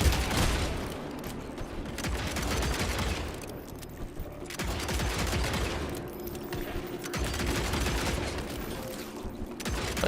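Pistol and rifle fire in the action game Evil West rattles in dense, continuous volleys with booming impacts, swelling and easing in loud waves with little pause.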